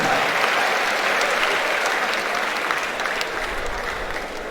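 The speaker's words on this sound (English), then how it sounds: "A round of applause, please." Steady, dense applause from a large audience at a university orientation programme for fresh students, sustained and even, fading slightly toward the end.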